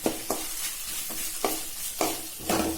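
Grated coconut and vallarai greens sauté in a pan, stirred in a regular rhythm of about six scraping strokes over a continuous close sizzle, no talking.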